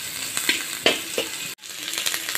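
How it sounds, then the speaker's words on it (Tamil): Vegetables for veg biryani sautéing in a hot pan, a close crackling sizzle broken by a few stirring scrapes and one brief gap. "போட்டு நல்லா வதக்கிக்கோங்க. ரொம்ப வதங்க வேண்டாம், ஒன்று ரெண்டாக வதங்கினா போதும்."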